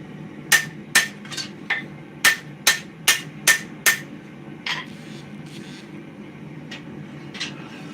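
Hammer blows on a steel sword blade being forged, drawing out the point and tightening the bevel: a loud, close run of about ten sharp metallic strikes in uneven rhythm, then a few fainter taps over a low workshop hum.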